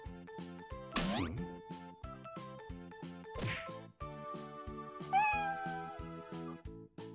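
An animated alley cat meows over a bouncy, rhythmic music track, with a couple of sweeping swoosh effects before one clear, drawn-out meow rises near the end.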